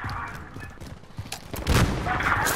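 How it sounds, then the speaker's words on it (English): Video game gunfire, a quick string of scattered shots building to a louder cluster of bangs near the end, close and crisp with no talking. "Okay, got somebody shooting at me."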